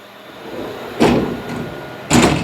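A door in a machine shop is pushed shut, giving two solid thumps about a second apart over a steady background hum of running equipment.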